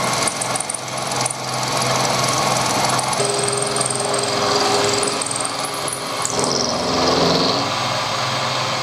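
An 8mm carbide milling cutter chews through metal such as aluminium, bronze and stainless steel, giving a loud, steady grinding screech that holds for several seconds with slight shifts in pitch.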